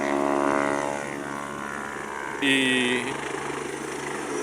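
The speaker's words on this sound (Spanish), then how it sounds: "me parece que no se va a escuchar bien este audio hasta que el helicóptero no se marche" An Andalusian health service helicopter that has landed on a nearby open field gives a continuous droning engine and rotor roar, loud and close, with a brief harsher surge midway, while a person speaks over it.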